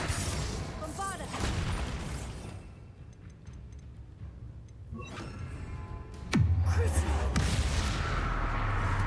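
Bombarda blasting spell in Hogwarts Legacy going off as a sudden loud boom about two-thirds through, preceded by softer rumbling combat noise and voices, with a sustained low rumble after the blast.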